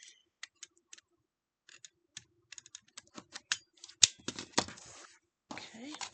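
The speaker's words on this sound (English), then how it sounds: "And then just trim them right off." Scissors trimming the fabric pieces of a Harry Potter air castle variation quilt block, a run of sharp close snips and clicks, sparse at first then quicker and denser, with small handling rustles near the end.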